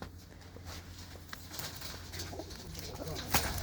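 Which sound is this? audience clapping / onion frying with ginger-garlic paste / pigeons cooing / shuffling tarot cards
pigeons cooing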